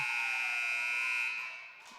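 End-of-quarter buzzer at a senior women's basketball game, a loud sustained electronic tone holding steady for over a second before fading away, with no talk over it.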